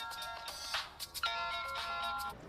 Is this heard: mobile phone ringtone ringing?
yes